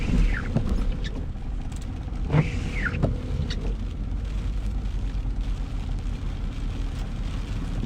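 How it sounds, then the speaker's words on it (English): A squeaky windshield wiper on a car that sat unused for two or three months, sweeping during a severe thunderstorm in Ankeny, with a few rising and falling squeals over steady rain and engine rumble. "squeaky windshield wiper annoys me"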